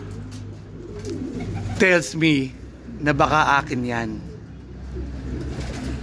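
Pigeons coo in a loft beneath steady talk, with soft, repeated throaty calls continuing in the background throughout.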